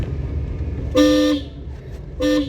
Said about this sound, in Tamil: ஹாரன் அடிச்சிருக்கணும்.